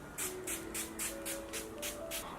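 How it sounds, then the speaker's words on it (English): Zaron setting spray misted in a quick run of about eight short, crisp hissing bursts at a steady rhythm, close and fairly quiet, with a faint tone in the background. "This Zaron setting spray."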